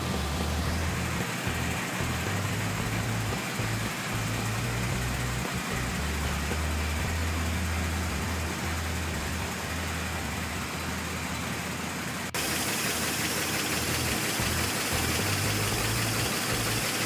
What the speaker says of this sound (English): the engine was running, and a reminder of the wonderful sound of these beautiful old engines